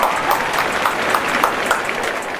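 A studio audience claps for an arriving guest on a cooking show, with dense continuous applause at a steady level for a couple of seconds and no talking.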